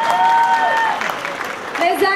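An audience applauds at a charity concert for a church charitable association. Clapping and crowd noise build under a loud voice talking over it for a couple of seconds.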